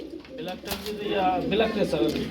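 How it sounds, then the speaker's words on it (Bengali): Racer pigeons, black and other colour pairs, coo softly in a loft while people talk over them. "এখানে আমরা দুই পেয়ার বেবি কবুতর দেখতে আছি একটা হচ্ছে ব্ল্যাক কালারের জোড়া আর একটা হচ্ছে সবজি রেসার কবুতরের জোড়া"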